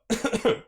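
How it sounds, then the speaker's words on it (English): A person coughs about three times in quick succession, close to the microphone, with no speech. "So forgive me if I am a little bit coughing or spluttering or any of that sort of stuff."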